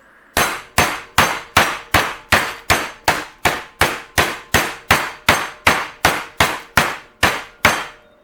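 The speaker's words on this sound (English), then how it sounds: "Now we're gonna get our hammer out." A hammer pounds pork tenderloin in a steady rhythm, about seventeen loud, evenly spaced blows close by, with no talking.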